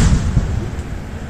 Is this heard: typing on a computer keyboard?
no